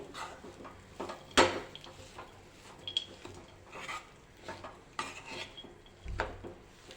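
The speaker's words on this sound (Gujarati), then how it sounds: "બરાબર મિક્સ કરી લઈશું આવી રીતે હલાવીશું" Date ladoo mixture being stirred in a pot, with a spoon scraping and clinking against the metal in irregular strokes, fairly quiet and close, with no talking.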